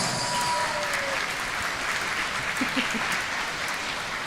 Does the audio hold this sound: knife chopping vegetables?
no